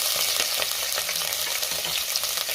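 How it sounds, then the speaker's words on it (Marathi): Mustard seeds, cumin, chilies and curry leaves sizzle in hot oil and ghee, a dense, steady crackling hiss with quick popping spits throughout, close and without voices. "तेल तूप गरम झाले, त्यात मोहरी आणि जिरे घालूया।"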